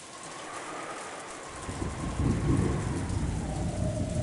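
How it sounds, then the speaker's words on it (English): Heavy rain from the Umineko visual novel pours steadily, starting as a soft hiss and swelling after a moment into a dense, rumbling downpour with deep low rolls like distant thunder. "Just like the previous night, the rain was falling in earnest."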